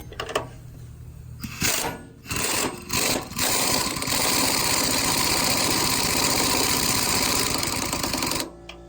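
An air impact gun tightens body mount bolts on a Hummer H2, buzzing in a few short rattling bursts before one long, loud continuous run that stops abruptly.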